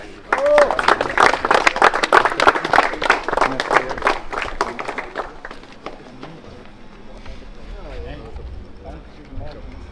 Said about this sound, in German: Ein riesen Applaus für Bütschiff!